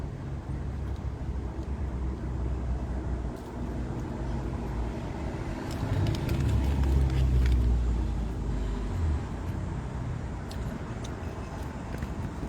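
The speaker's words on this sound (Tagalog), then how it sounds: "Maingay ng kalsada, kaya narinig yung mga sasakyan." Steady road traffic beside an outdoor restaurant patio in Canada in summer: a continuous engine and tyre rumble swells as a vehicle passes midway, then settles back to a constant drone.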